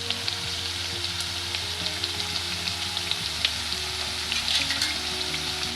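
Ratalu (purple yam) puris fry in hot oil over a medium flame, giving a steady, dense sizzle that runs without a break, close and loud, with no voices.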